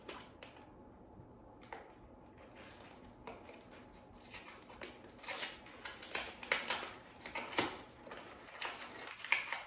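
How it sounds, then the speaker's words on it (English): Packaging for Jiffy corn muffin mix is torn and opened with faint crinkling, rustling and scattered crisp tearing clicks that grow busier toward the end, quiet and close with no talk. "So let's open the Jiffy corn muffin mix."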